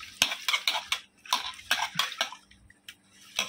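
Small fish are mixed by hand in a bowl while being cleaned, making a steady run of wet clicks and scraping knocks at an uneven rhythm, close and fairly quiet, with no talking.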